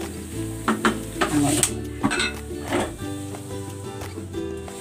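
Fried latik (coconut curds) tipped into a strainer to drain off the oil, with close metal scraping and clinking over a light oily sizzle, in irregular bursts.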